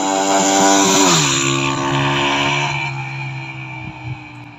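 A 125cc motorcycle ridden at speed, its loud close engine drone sliding down in pitch as it shifts, then settling into a steady hum that slowly fades a little, with no talking.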